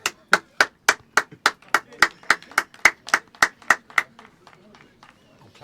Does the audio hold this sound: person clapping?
yes